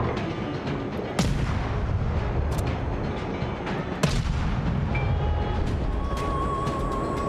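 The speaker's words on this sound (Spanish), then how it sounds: "Si vas de costado, puedes darle con los cuatro cañones. ¡Venga, dispara!" Warship cannons firing in World of Warships over a constant loud rumble of engines and sea, with two distinct booming shots standing out from the steady roar.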